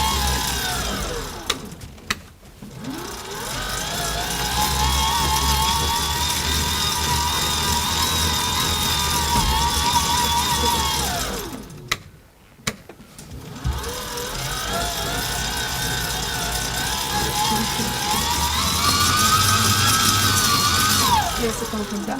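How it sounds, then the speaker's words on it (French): A small electric motor in a school footstep-energy project whirs steadily and loudly for about twenty seconds, cutting out briefly twice before spinning back up, with no talking. "Là, il y a le moteur qui va."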